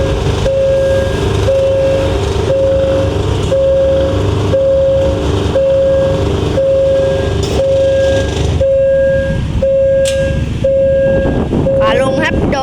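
Train number 259 passes a level crossing at U Thong, its steady rolling rumble loud and close, with the crossing bell pinging at a regular beat throughout and someone talking over it.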